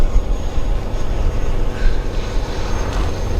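Freewing Eurofighter Typhoon 90mm electric ducted-fan RC jet in flight, a steady airborne whoosh and roar held at a constant level throughout, with no voices.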